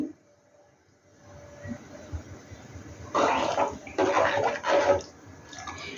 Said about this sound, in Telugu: చూడండి ఫ్రెండ్స్, మసలడానికైతే వస్తుంది